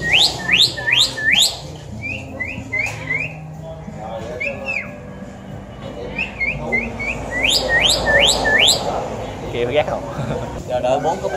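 Repeated whistled bird calls, rising chirps and tweets in short bursts, from a myna, with people talking throughout in an outdoor setting.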